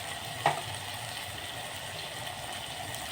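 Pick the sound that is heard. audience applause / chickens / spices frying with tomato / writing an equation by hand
spices frying with tomato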